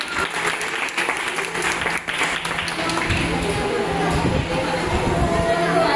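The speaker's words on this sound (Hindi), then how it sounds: "जी के तालियों के साथ स्वागत करें।" Steady audience clapping greets a guest coming onto the stage at a freedom celebration event, a dense wash of many hands with some chatter and a voice mixed in.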